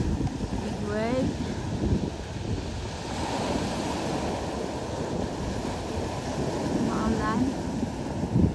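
Surf rolls and crashes in a constant roar with heavy wind buffeting the microphone, and a voice speaks briefly over it.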